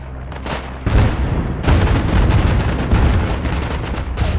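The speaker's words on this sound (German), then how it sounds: "Granate!" Loud, close grenade blasts and heavy gunfire in the World War I shooter Isonzo, sharp booms and dense rattling shots packed together with no pauses, no voices over it.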